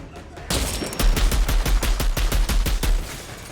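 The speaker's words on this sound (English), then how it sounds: "shooting him a couple of times and letting the burn do the work" Rapid gunfire in the video game Outriders: a burst of sharp, punchy shots in quick succession, roughly a dozen evenly spaced cracks over about two and a half seconds, loud and close, with no talking.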